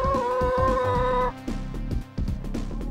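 A hen clucks in a burst of short calls over a steady tonal background, then a few scattered clucks follow more quietly.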